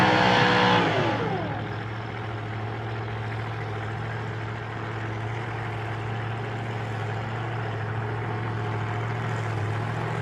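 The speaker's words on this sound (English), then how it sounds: "Something didn't sound too good then on the Andrew Braithwaite car." A nostalgia drag racing car engine, running rough, roars close at first, then fades into a steady, droning rumble that holds for several seconds.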